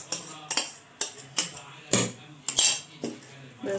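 A spoon clinks and scrapes against a bowl while a cookie dough for Eid sweets is mixed, about eight sharp knocks in a steady, fairly close stirring rhythm with no talking.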